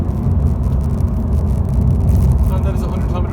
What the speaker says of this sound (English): first gear, we're going to floor the car.